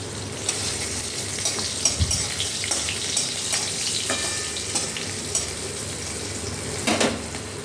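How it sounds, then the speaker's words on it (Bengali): Nigella seeds and a green chili frying in oil in a pan, a moderate continuous sizzle with scattered utensil clinks and scraping against the pan, close and alone without speech. "এবার কড়ার তেলের মধ্যে দিয়ে দিলাম একটা কাঁচা লঙ্কা, দিয়ে দিলাম কালো জিরে। এটা একটু ভাজা ভাজা হয়ে যাক।"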